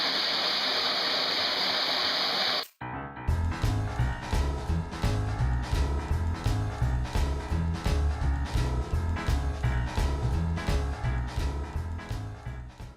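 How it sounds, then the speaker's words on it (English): Water runs steadily onto an emulsion-coated screen printing screen to wash it out, a loud close hiss that cuts off after about two seconds, followed by rhythmic music. "Now we just run water on this,"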